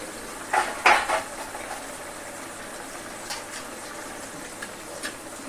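A spoon scrapes and clinks against a pot as banana-flower mocha ghonto is stirred after hot water goes in, with two clear clatters near the start and then soft, faint stirring and occasional light taps.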